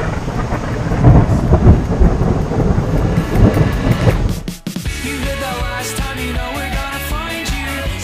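Heavy rolling thunder from a storm on a motorcycle trip in Romania roars loudly and continuously for about four and a half seconds, then cuts off abruptly into music.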